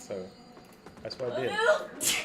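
A person sneezes once sharply near the end, just after a short stretch of casual conversational speech.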